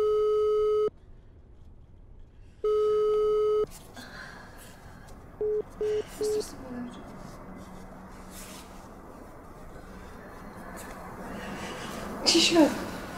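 A telephone busy signal during a phone call in a TV drama: two long, loud steady tones, then a few short beeps, followed by quiet background noise and a brief clatter near the end.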